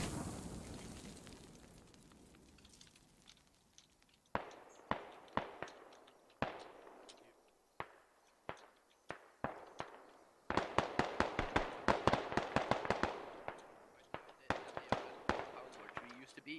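Mortar rounds land nearby in a military video game, a rapid string of sharp explosive cracks and thumps, sometimes in quick clusters, with a rumbling low background in between.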